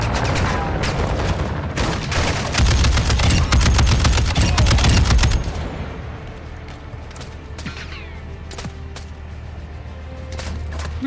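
Rapid bursts of automatic gunfire crackle loudly during a Call of Duty DMZ match, dense for the first five seconds, then giving way to sparser distant shots over a low rumble.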